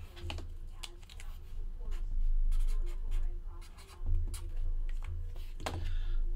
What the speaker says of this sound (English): I should write that down